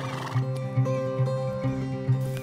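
An Icelandic mare neighs close by, a loud, wavering whinny with several pulsing rises that carries from start to finish, with no voices.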